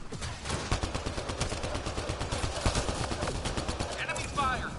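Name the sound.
gunfire from the video game Mass Effect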